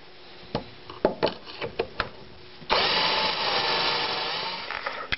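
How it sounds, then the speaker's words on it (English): Several sharp knocks and clicks of wood being positioned in a Kreg pocket hole jig, then a power drill whirs loudly for a couple of seconds as it bores pocket holes. "next I'm going to use my Kreg pocket hole jig to drill the holes"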